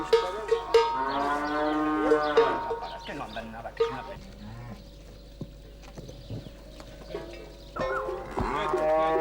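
A transhumance herd of cattle in the Pyrenees being gathered into a corral: repeated close, drawn-out moos from several cows, with cowbells clanking and jangling steadily underneath.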